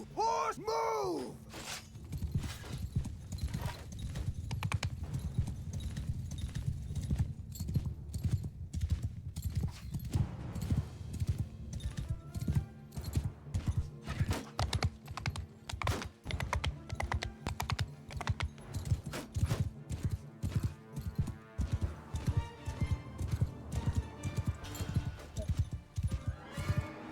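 Cavalry horses gallop in the video game Mount & Blade Bannerlord, a continuous rapid clatter of hoofbeats with occasional neighs mixed with battle noise and keyboard typing, steady and busy for almost half a minute.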